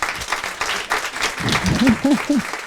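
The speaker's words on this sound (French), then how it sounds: "On peut l'applaudir, hein" Audience applause for a speaker at a round-table event on women retraining for digital careers, a steady patter of clapping with a voice rising over it in the second half.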